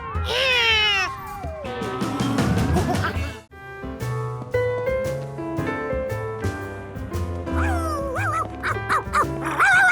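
A cartoon dog in a Curious George episode barks and yips in playful bursts mixed with cat-like meows and a lively music score, all loud and close throughout.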